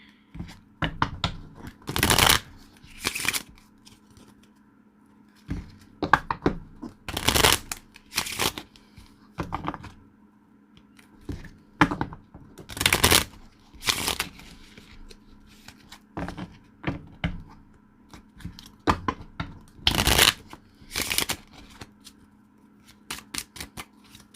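Tarot cards being shuffled in irregular bursts of riffling and slapping, each flurry a few seconds long with quiet gaps between, close and fairly loud against a low steady hum.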